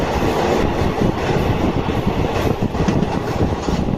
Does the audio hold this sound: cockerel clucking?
no